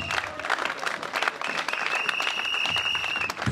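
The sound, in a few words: congregation applauding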